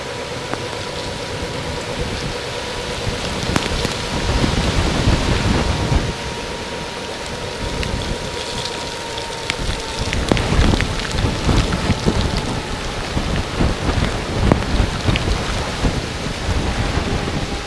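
Heavy rain pours down around a rider on an E300 electric scooter near a lake, a dense constant hiss broken by rumbling thunder and gusty bursts, loud and close.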